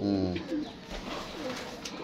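Pigeons coo close by in a few soft, throaty bursts, with a faint voice in the background.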